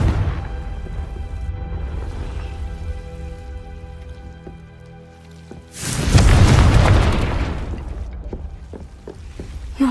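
Confringo blasting spell in Hogwarts Legacy, a sudden loud booming explosion that erupts midway and rumbles on with crackling debris, following a stretch of quieter game ambience.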